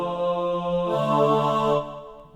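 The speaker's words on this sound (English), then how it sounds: "I'm gonna go with the choir. Choir's pretty tight" Sustained choir sample from a stock plugin, voiced as a low-octave pattern in a black metal and rage production, a held vocal chord that swells brighter midway, then fades, alone with no talking.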